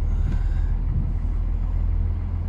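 A tractor climbing uphill through snow, a steady close low diesel rumble with no talk.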